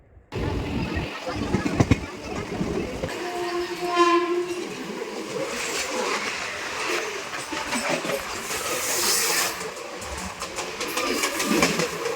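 Riding a Mumbai harbour line local train in the afternoon, a steady rumble of wheels on rails throughout, with a horn sounding around the four-second mark and people talking faintly in the carriage.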